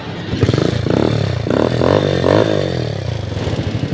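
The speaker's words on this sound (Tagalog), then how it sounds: "naririnig natin napakalakas po ng lagatik" A Rusi motorcycle engine idles loudly with a rapid, rhythmic knocking clatter from an engine fault that persists over a few seconds, close by.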